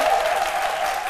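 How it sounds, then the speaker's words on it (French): A studio audience on a French-language midday TV show applauds in a brief, even burst of clapping that holds at steady volume throughout. "Merci de vous applaudir."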